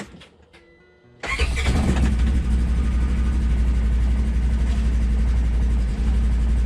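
A 2022 Polaris General Premium side-by-side starts after a moment of quiet, then settles into a steady, close, rumbling idle as it warms up.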